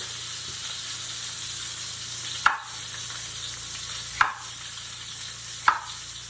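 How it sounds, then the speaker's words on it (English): Three sharp knife strikes cutting broccoli into florets on a board in a home kitchen, spaced irregularly over a steady low background hiss. "Cut up this broccoli, we're just going to separate each of the little florets."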